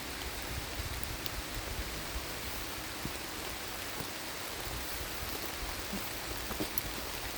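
Steady rain falls outdoors in a continuous, even hiss with no breaks, moderately loud and heard alone.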